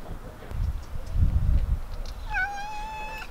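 A cat somewhere in France gives one clear, drawn-out meow near the end, preceded by rustling and footsteps close by.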